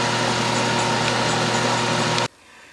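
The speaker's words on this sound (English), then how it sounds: "This is going to be hard drilling, so I won't show all of it." A drill bit grinds through hard steel on a machine tool, a loud steady whine that stops abruptly near the end, leaving quiet.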